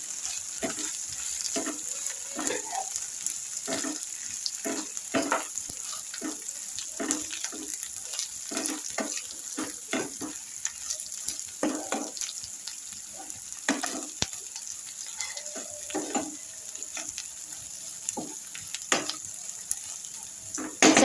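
A spoon stirs fried prawns into an egg prawn curry in a pan, with soft intermittent scraping and gentle sizzling in repeated strokes over a steady background hum.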